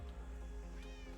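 A cat meows in the video game I.D.I.O.T.I.C. Inc, a single faint rising and falling call over a low background hum.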